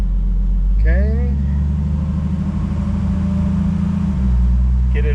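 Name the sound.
Jeep Wrangler 4.0 running on wheels in second gear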